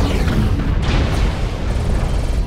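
Heavy mech weapons fire and explosions in MechWarrior Online roll together into a loud, continuous rumbling boom with deep thuds and no pauses.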